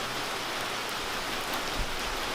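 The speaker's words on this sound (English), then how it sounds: "it literally rains every time I work on the truck" Heavy rain pours steadily outdoors beside a 1979 Ford F250 under restoration, a dense, even hiss of drops on surfaces with no pauses and no voices.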